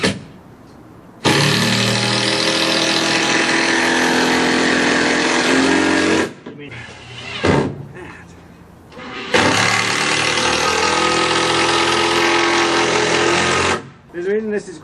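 A power saw cuts timber for a front porch rebuild in two long, loud bursts of harsh buzzing, each lasting several seconds, with a short gap and brief workshop clatter in between.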